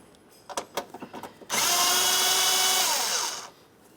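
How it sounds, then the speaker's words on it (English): A power tool works a 10mm mounting nut under the air filter box of a 2001-2005 Ford. A few light taps are followed by about two seconds of loud, steady, close whirring that then stops. "There's a mounting nut right down here. We'll use a 10mm to remove that nut."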